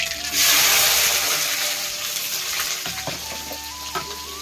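Bay leaves and onion hit hot oil that already holds cumin, and a loud hiss bursts up and settles into a steady close sizzle, with stirring clinks and scrapes toward the end.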